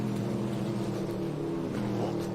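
A Ginetta race car's 6.2 litre V8 rumbles steadily at a distance on the Croft circuit, a low, continuous engine drone with no breaks.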